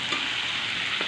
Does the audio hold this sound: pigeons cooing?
no